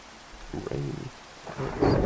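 Minecraft rain with a low rumble of thunder, steady hiss of rainfall swelling with deep booms across a couple of seconds, no speech.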